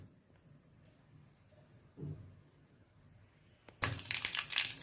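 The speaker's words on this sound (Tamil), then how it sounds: "இப்போ கடுகு நல்லா பொரியுது" Near silence gives way to a sudden burst of sharp, rapid crackling and popping as mustard seeds splutter in hot oil for a fish curry, continuing loudly to the end.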